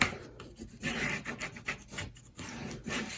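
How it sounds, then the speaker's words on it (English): An adhesive strip is rubbed firmly down onto a 9 x 7 folio cover, a close, quiet, repeated scraping rub in short back-and-forth strokes with brief pauses. "And then we can burnish this down."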